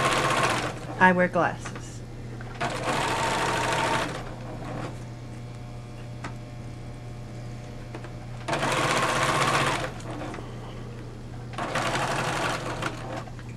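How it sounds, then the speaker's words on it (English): A sewing machine runs in three sustained stitching bursts of a few seconds each while sewing the collar of a sweatshirt jacket, close and fairly loud. A brief spoken remark comes early, and quieter pauses fall between the runs. "So now I'm going to stitch right to that center front point."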